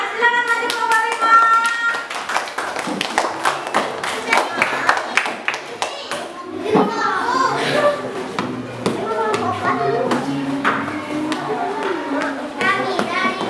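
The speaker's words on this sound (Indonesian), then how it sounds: "Sekali lagi tepuk tangan untuk kelompok 6" A classroom group of children claps and applauds for a presenting group, with quick uneven hand claps throughout and children's voices chattering under it.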